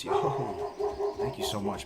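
House dogs bark at a contractor inside the home, their short barks close and repeated under someone speaking to a game stream.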